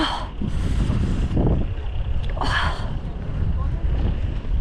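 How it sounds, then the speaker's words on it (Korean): Strong wind gusts at the Hangyeryeong rest area on Seoraksan mountain on a cold October morning, a loud steady roar buffeting the microphone throughout, with voices briefly heard underneath. "내리자마자 정말 바람이 세차게 불어오기 시작했고"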